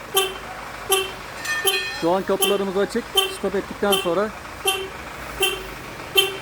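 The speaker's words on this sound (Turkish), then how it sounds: "Korna ve dörtlerle birlikte uyarı vermeye başladı." A 2005 Kia Sorento's car alarm sounds its horn in short, repeated honks at regular intervals with hazard lights, fairly close, while a person talks over it.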